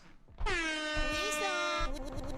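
A loud, sustained stadium air horn blast lasting over a second at the Italy vs Wales Euro 2020 football match, cutting through crowd noise, followed by a shorter honk.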